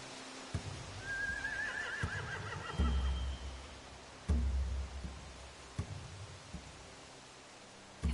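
Horses in The Walking Dead: The Final Season video game give one clear whinny amid faint rustling and occasional hoof thuds, set against a quiet, noisy background with no speech.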